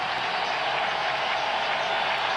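Cincinnati Bengals fans at a home football stadium roar in a steady, dense crowd wash, a continuous cheer with no voice standing out.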